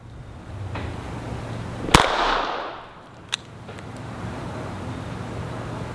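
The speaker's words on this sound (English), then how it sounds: "I'm only going to fire 3 shots just to minimize the damage" A .22LR round fired at a bowling ball gives one loud, sharp crack with a short decaying tail. A fainter second crack follows over steady background hiss.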